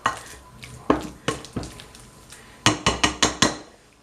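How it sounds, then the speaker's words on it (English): Three ripe bananas are mashed in a bowl, producing a series of sharp, close thumps and squelching presses, scattered at first and then a quick run of five evenly spaced strikes, with no voices. "Okay, we got them mashed up"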